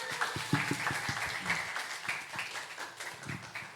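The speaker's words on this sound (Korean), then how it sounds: "박수." A church congregation at a Sunday service applauds to welcome new members, a short burst of scattered hand clapping in a room, moderately loud with faint voices under it.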